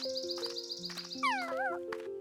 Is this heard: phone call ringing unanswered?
no